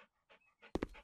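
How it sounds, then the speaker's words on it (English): Dogs in the House Flipper Pets DLC game pant in short, close breathy bursts, building to a couple of louder quick pants near the end. "Stop following me, all the dogs."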